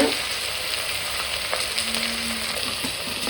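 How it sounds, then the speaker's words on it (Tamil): Chopped onions sautéing in oil for chicken biryani, a steady close sizzle and crackle with faint stirring scrapes. "போட்டு வெங்காயத்தை வதக்குங்க"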